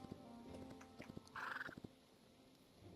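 A horse in the video game Hytale whinnies once in a short bright burst, with soft hoof clip-clops and game sounds around it, heard faintly and alone.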